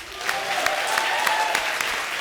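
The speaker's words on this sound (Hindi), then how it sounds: "रज्जो के लिए जोरदार तालियां." Studio audience applause on a televised Hindi comedy show, a loud, even burst of clapping lasting a couple of seconds, with no speech over it.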